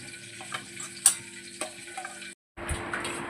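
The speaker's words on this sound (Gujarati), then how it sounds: "મસાલો મિક્સ કરી વઘાર કરવાનો." Spice tempering sizzles in a pan for a Gujarati bitter gourd curry, a thin steady crackle broken by a few sharp pops and clinks, a short silent gap, and then a louder burst of frying.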